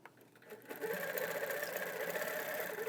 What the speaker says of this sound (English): And now we'll continue quilting.